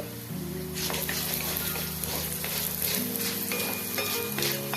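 Dals and a tablespoon of coriander seeds frying in a pan for a bone-strengthening chutney, giving a steady close sizzle with crackling bursts and light stirring over a low background hum.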